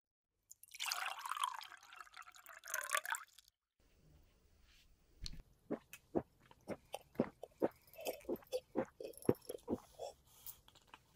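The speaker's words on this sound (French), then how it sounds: "on va boire un grand verre d'eau" Water is poured into a large glass with a short burst of splashing, then after a pause come a series of close, soft gulping swallows in a quick rhythm.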